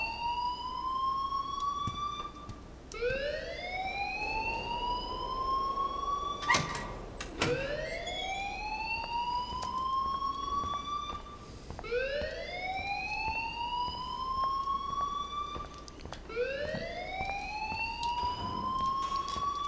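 A school alarm in the video game Life Is Strange wails in repeated rising whoops, each sweep climbing in pitch and restarting roughly every four to five seconds, loud and alone with faint background texture.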